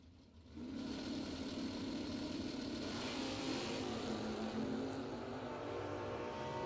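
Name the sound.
drag racing cars launching down the track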